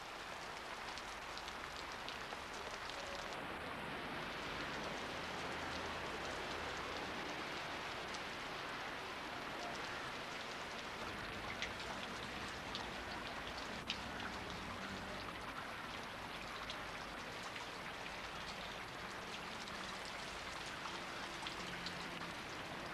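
Steady rain falls continuously, a dense even hiss of drops on surfaces with no voices.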